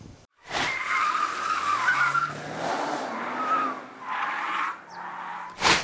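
Tires of a 2023 Mercedes-Benz GLC squeal loudly through a slalom test, long wavering skids rising and falling in bursts as the SUV swings side to side, engine audible beneath, no talk.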